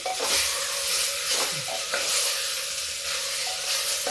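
Vegetables with chili powder and spices sizzle in a pan as they are stirred, giving a constant close frying hiss with a few soft scrapes and clinks of the spoon and no talking.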